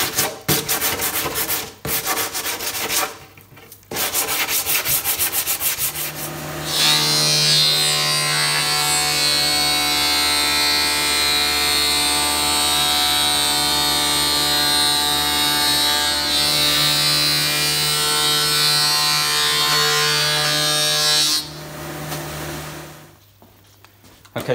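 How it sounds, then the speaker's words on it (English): A power sander with coarse 40 grit works over the edges of a wood and epoxy resin wall hanging, a loud continuous whirring grind that runs steadily for most of the clip after a few brief starts and stops. "I'm just going to get some really harsh 40 grit and just round off those edges"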